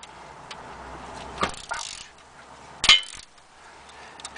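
A wrench clanks against car engine parts during timing belt work on a Volkswagen Jetta TDI, two sharp metallic strikes standing out against a quiet garage background.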